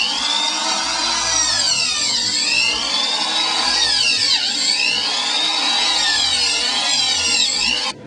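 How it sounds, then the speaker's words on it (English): A power drill bores holes through a wooden lacrosse stick, a steady, loud whine with rising and falling pitch sweeps as the bit cuts, running continuously close by with no talk. "So it's been drilled."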